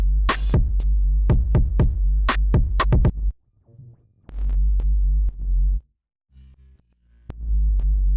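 A bass track from an electronic production, heard without its Trash distortion plugin, plays as clean, deep sustained bass notes with sharp clicky transients at the start and a few gaps of near silence.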